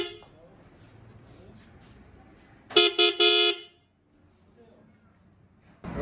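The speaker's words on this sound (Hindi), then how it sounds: "अभी आप चेक करें कैसा साउंड आता है GLI हॉर्न का।" A loud aftermarket GLI motorcycle horn sounds in three short honks in quick succession, then silence, with faint voices and a background hum before it.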